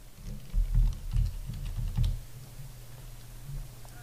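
A password typed on a computer keyboard, a short run of close soft key taps clustered in the first couple of seconds, then quieter hum.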